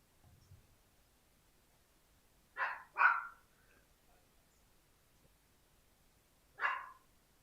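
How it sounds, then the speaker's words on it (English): A dog barks twice in quick succession, then once more a few seconds later, somewhat distant against a quiet background. "I hope you guys can't hear the dog barking."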